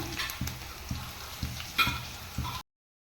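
Cauliflower chilli fries in a pan with hot oil, a steady close sizzle broken by soft rhythmic thumps roughly every half second, alone and without voices.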